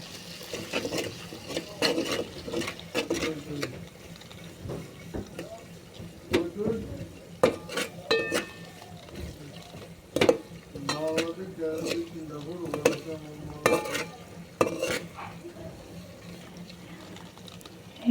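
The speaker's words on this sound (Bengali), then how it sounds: "এগুলোকে এবার আমি ভালো করে মিশিয়ে নেব, কষিয়ে নিব।" A mixture being stirred and fried in a pan: irregular clinks and scrapes of a spatula against metal over a low sizzle, spread across the whole stretch with quiet gaps, no voices.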